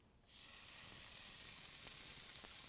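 Turkey patties hit a hot pan and a loud, close sizzle bursts up and holds steady, with a couple of faint clicks near the end.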